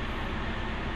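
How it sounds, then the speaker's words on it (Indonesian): The air conditioning compressor of a Toyota Avanza runs with a steady, close mechanical whir and a broad, even noise that holds constant for a second with no talking. "itu suara kompresor yang aktif"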